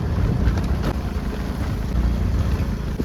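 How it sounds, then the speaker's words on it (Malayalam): Strong wind buffets the microphone on a hill at Arjunan Mala, a steady low rumbling roar that stays loud and unbroken throughout, with no voices. "നല്ല രീതിയിലുള്ള കാറ്റുണ്ട്"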